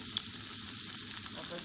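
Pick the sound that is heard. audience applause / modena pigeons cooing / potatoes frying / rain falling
potatoes frying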